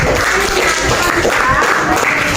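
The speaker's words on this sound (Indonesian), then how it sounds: "kasih tepuk tangan dulu buat kelompok kinestetik" A classroom of students claps for the kinesthetic group, a dense, steady patter of many hands filling the short stretch from start to finish.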